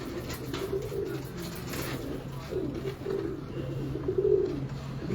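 A pure Shah Parwaz pigeon coos in low, throaty rolling phrases that repeat and swell at intervals, close by with steady background hum.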